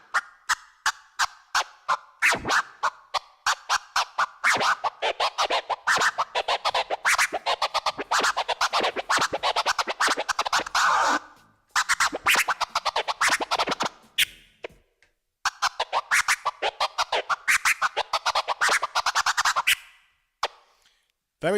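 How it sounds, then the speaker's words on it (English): A DJ works a paradiddle scratch on turntable decks, close and loud, with quick rhythmic cuts in short repeated phrases. Two brief pauses split the passage. "translating those kind of stick movements on the drums to something on the decks sounds a bit like this"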